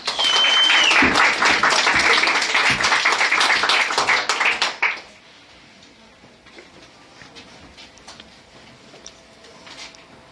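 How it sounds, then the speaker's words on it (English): Applause breaks out from a poetry slam audience, dense and loud clapping for about five seconds, then it fades to scattered faint claps and quiet room noise. "Let's give him a nice round of applause."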